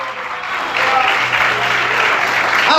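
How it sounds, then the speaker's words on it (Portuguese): A church congregation claps in sustained, dense applause, a steady loud wash of hands with no break. "Aplauda esse Jesus maravilhoso."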